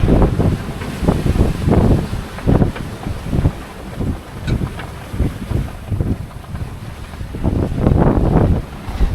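Strong wind roars across a sailboat at sea off Molokai in Hawaii, with loud gusting buffets on the microphone and waves sloshing against the hull, rising and falling in repeated surges and never letting up.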